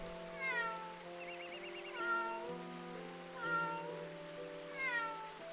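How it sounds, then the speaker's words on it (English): A cat meows repeatedly in the video game Eternal Sonata, four drawn-out cries at regular intervals over a soft, sustained musical background, clear and fairly quiet. "It even has 2 meows"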